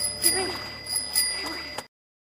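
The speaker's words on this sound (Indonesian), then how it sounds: "Dan si anak perempuan menggunakan bel yang berada di tangannya." A small hand bell rings in several quick bursts of tinkling, fairly close, with faint background noise, then cuts off abruptly.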